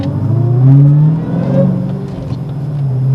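Dodge Challenger Hellcat with a six-speed manual accelerating, its engine note rising and swelling in a loud interior drone, then dropping briefly before climbing again as it pulls through the gears.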